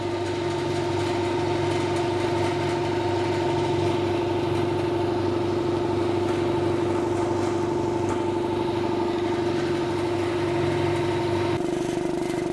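Garage air compressor running steadily with a constant motor hum and a continuous buzzing rattle, loud and unbroken throughout with no voices.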